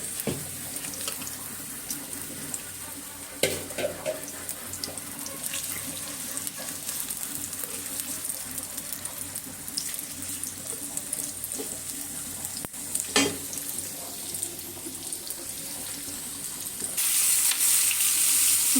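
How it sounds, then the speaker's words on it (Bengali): Shing catfish fries in a pan with a constant hissing crackle, broken by a few sharp clatters, and the sizzle swells louder at the end. "শিং মাছটা ভাজার পরে আমি আবার চিংড়ি মাছটা ভেজে নেব।"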